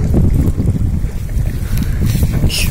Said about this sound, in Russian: Как видите, ветер и плохая погода людей прогнала.